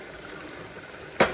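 Red chilli, onion and asafoetida tempering in hot oil for a Salem-style mango kuzhambu, with a soft steady sizzle that bursts into a loud, sharp hiss near the end.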